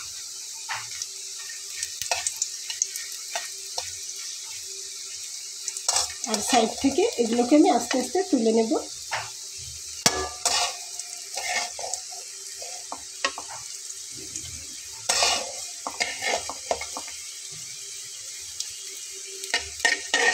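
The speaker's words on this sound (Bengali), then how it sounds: "তো চলুন শুকনো মরিচটা ভেজে নিই।" Dried red chillies fry in hot oil for a Bengali kakrol bhorta, giving a steady crackling sizzle with bursts of stirring and utensil clatter. A person talks quietly at times.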